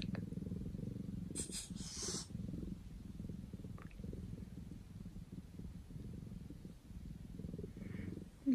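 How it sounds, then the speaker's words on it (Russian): A bobcat kitten purrs close up in a continuous low rumbling throb, with a few brief faint rustles on top. "Громко урчит."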